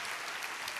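A church congregation applauding during a preacher's sermon, a steady wash of clapping that fills the whole brief moment, fairly soft and with no voice over it.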